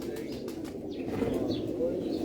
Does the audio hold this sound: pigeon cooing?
yes